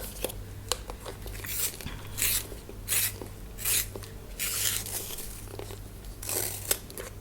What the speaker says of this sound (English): My warm gray has to be a little sharper.